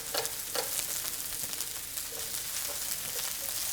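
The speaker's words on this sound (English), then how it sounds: "I'm just cooking this until the vegetables are a little softened" Vegetables for an omelet fry in an oiled pan, a steady close hiss and crackle running throughout with a few soft scrape-like accents.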